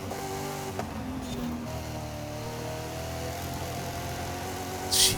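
A GMC Typhoon racing truck in Forza Horizon 5 holds a steady engine drone with shifting harmonic tones, a small rev change early on and a sharp burst near the end.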